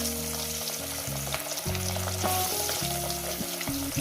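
Small chela fish fry in hot oil with a steady bubbling sizzle close up, accompanied by stepped tonal hum from a nearby appliance running throughout.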